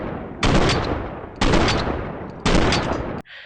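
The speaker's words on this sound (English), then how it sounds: "I'm going to pull the trigger as fast as I can, and you'll see how fast it can shoot." Rifle gunfire in a co-op military shooter video game, three loud bursts of rapid automatic fire with brief gaps between them, close and dominant.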